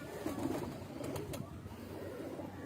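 Pigeons coo softly from a breeder's loft, with low, rounded calls that come and go over a steady background hum.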